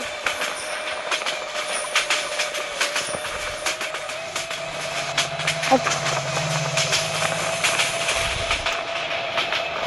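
The Dhaka-bound intercity Tarun Express passing nearby on the rails, a loud, steady rolling clatter of wheels over the track for about ten seconds, with a faint squeal partway through.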